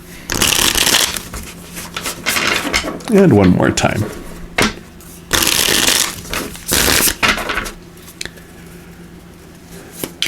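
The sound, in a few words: shuffling tarot cards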